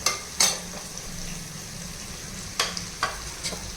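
Cooked rice being slowly stirred into capsicum pulihora in a pan, a soft steady sizzle with several sharp spatula knocks and scrapes against the pan, no talking.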